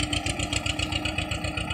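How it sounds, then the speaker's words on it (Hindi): Escort 335 tractor engine running up close with a steady, rapid thumping idle rhythm that stays even and loud throughout, with no voices over it. "देख लें एस्कॉर्ट 335 ट्रैक्टर बहुत गजब का, जोर साइलेंसर में से भाई धुआं नहीं आ रहा।"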